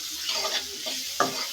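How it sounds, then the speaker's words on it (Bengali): Rohu fish and papaya coated in masala and salt are frying and being stirred in a pan: a soft sizzle under repeated spatula scrapes, ending in one sharper scrape. "তো এটা একটু ভাজা ভাজা করে নিই"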